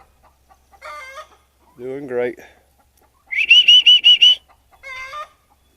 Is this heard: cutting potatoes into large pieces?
no